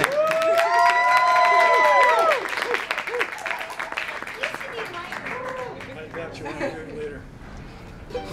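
Audience applause and cheering break out at a blues band concert, rising over sustained sung or played tones at first, then continuing as looser clapping and crowd noise with voices mixed in.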